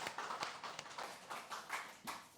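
A church congregation claps to welcome two new families during a Sunday worship service, with quick, uneven, moderately quiet applause lasting a couple of seconds.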